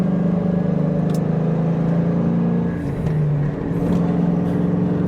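An old Ford Mustang with a few handling mods drives fast through a track corner, its engine a loud, steady drone that dips briefly as it lifts off for the turn and then pulls hard again.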